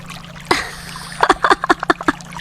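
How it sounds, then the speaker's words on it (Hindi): Chutney tossed into water in a Hindi cartoon makes a sharp splash, followed by a quick run of small splashes and plops. "इन चटनियों का तुम क्या कर रही हो? पानी में फेंक रही हो।"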